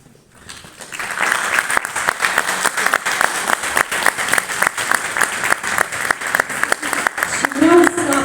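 An audience at an Easter church gathering applauds, with sustained, fairly loud clapping from many hands after a brief quiet start.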